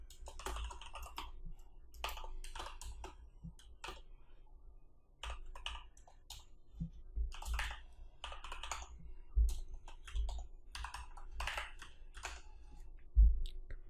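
Typing PHP code on a computer keyboard, with quiet, close keystrokes in irregular bursts separated by short pauses and no talking.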